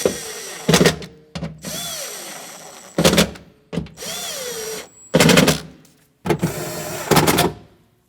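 A power drill drives bolts snug on the rear window regulator of a 2012-2016 Honda CR-V in bursts, several loud whirring runs that rise and fall in pitch, separated by short pauses, with no talking.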